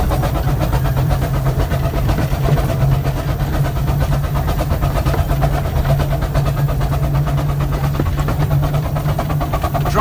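A miniature railway steam locomotive on the Romney, Hythe and Dymchurch Railway works hard to accelerate its train, a loud continuous rumble and rapid chuffing heard close from the cab with no speech.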